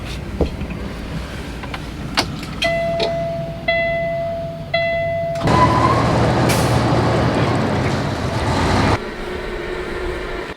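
A truck at a grain-dumping site lets out several sharp air-brake hisses and releases. A longer loud burst of air follows, over steady engine rumble in the background.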